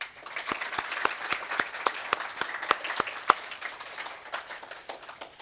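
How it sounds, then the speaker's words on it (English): Sparse, distinct handclaps ring out from a modest audience at a Northdale Middle School AVID graduation, steady and moderately close for several seconds with little talking. "Will you please give them a round of applause?"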